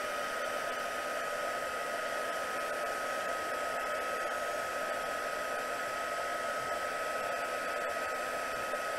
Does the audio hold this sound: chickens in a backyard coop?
no